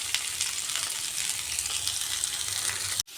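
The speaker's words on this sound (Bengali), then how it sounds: "একটু লাল লাল করে ভাজবো যাতে আলুর মধ্যে একটা কালার চলে আসে খুব সুন্দর" Potatoes frying in oil in a pan for vegetarian alur dum, giving a steady close sizzle with faint stirring, alone without voices and cut off abruptly near the end.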